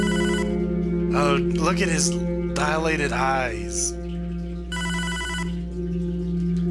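An electronic telephone ring in Hotline Miami 2, a top-down action game, sounding in repeated bursts of steady tonal ringing over a constant low hum while someone talks over it.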